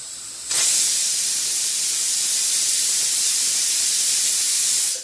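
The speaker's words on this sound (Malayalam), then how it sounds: "ആദ്യത്തെ ഒരു വിസിൽ ഹൈ ഫ്ലെയിമിൽ വിട്ടിട്ട് ഒരു വിസിൽ അടിക്കുക" A pressure cooker of rice and green gram on the stove releases steam: after half a second of quieter noise, a loud, steady hiss starts and carries on unbroken with no talk.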